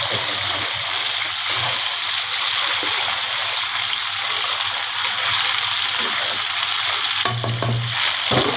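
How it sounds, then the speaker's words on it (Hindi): Chicken frying in a pan for a steam roast, a steady loud sizzle with occasional scraping as it is stirred, running continuously under a voice. "ये हमने चिकन डाल दिया, ये हमारा हो रहा फ्राई। उसके साथ साथ हम इसको हिलाएंगे।"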